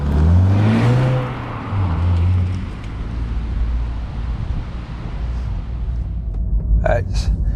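A Honda CR-Z engine rumbles steadily while driving on the road, with a rising rev early on and continuous road and tire noise throughout; a brief higher-pitched whine appears near the end.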